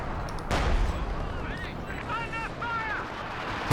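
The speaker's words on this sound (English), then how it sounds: "Close range howitzer barrage" Howitzer barrage in Company of Heroes 2, a close-range artillery strike landing near a tank, with a sharp blast followed by a rumbling roll of impacts and whistling tones, loud and alone.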